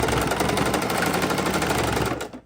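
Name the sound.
sewing machine stitching a microwave potato bag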